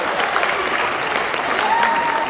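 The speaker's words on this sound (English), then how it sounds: "Give him a round of applause, everyone." Zoo audience at London Zoo applauding after a coati's balancing display, a steady, dense wash of clapping from a crowd lasting throughout, with a faint whistle-like tone near the end.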